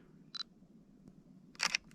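A camera shutter fires a single shot on a snowy winter sunrise outing, a crisp mechanical click-clack close up against faint outdoor hiss, with a softer tick just before.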